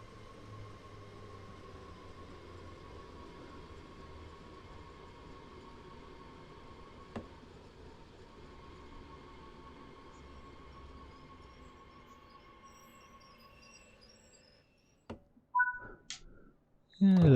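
A train in Train Sim World 3 on a German Rhein-Ruhr Osten route brakes into a station, a low steady rumble fading quietly before sharp clicks and clunks at the end.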